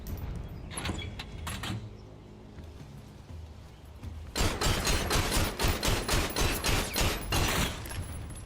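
Gunshots in Metal Gear Solid Delta: Snake Eater, a few scattered sharp cracks early on, then a rapid run of roughly a dozen loud evenly spaced shots in quick succession.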